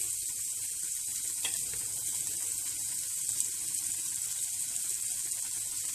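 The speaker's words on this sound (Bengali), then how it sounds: "পটল ভাজা যে তেলটা তার ভিতরে আমি দিব পেঁয়াজ কুচি" Chopped onion frying in the leftover oil from pointed gourd, a steady high sizzle and hiss running the whole time with a brief crackle near the start, close and fairly quiet with no talking.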